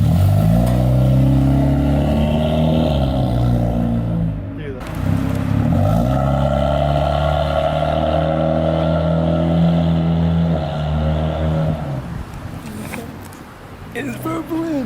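A loud Acura RSX engine with an aftermarket exhaust revs hard and drops repeatedly, its throaty exhaust note rising and falling close by, with voices talking over it.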